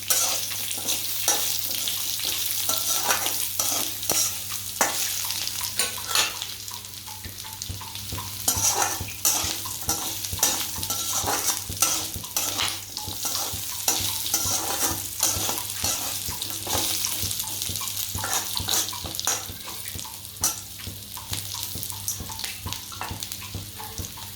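A mixture for pesarattu upma fries in a pan, giving a continuous hiss of sizzling under frequent scraping stir strokes, close and steady, with no talk.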